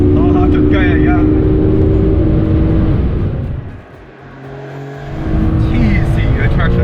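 Porsche 911 (992) driven flat out on the Valencia racing circuit, engine note rising loud and close through the gears, easing briefly before surging again, with a voice talking over it.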